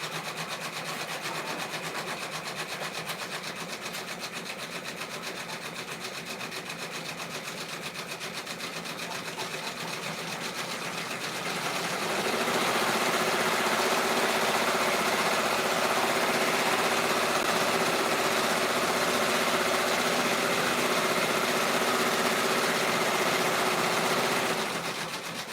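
An embroidery machine stitches through fabric layered with craft foam for a bag tag, a steady mechanical whirring and rapid needle chatter that grows noticeably louder and busier about halfway through, with no talking.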